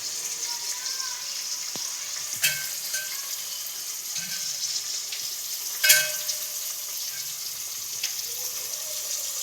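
Onion, green chilli, carrot and beetroot frying in oil with whole biryani spices, giving a steady soft sizzle throughout, with a few sharper crackles and clinks along the way.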